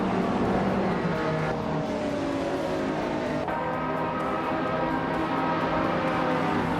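A field of race cars, including a 1993 Ford Mustang SVT Cobra, roars off at the start of a video game race on a speedway oval, with a dense, continuous engine drone that shifts pitch as the cars accelerate.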